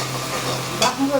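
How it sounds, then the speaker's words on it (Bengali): Spice paste sautéed and stirred in a pan, a brief close sizzle with a scraping stir near the end. "এই যে এটা এবার ভালো করে কষাবো"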